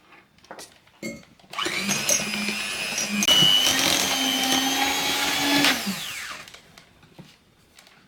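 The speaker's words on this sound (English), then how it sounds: "Now we beat the sugar and the butter plus the vanilla." An electric mixer beats sugar, butter and vanilla for Alsatian Christmas cookies, a steady loud whir running about four seconds after a couple of short starts, then winding down to quiet.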